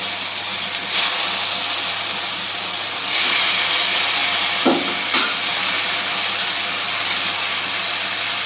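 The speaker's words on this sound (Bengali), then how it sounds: "ফোড়ন আমাদের ভালো করে ভাজা হয়ে গেছে, এবার আমরা ম্যারিনেট করা মাছগুলো এর মধ্যে একে একে দিয়ে দেবো।" Marinated khoira fish dropped one by one into hot oil with fried tempering spices for a mustard and aubergine curry, a loud steady hissing sizzle with brief bursts as pieces go in, close and without talk.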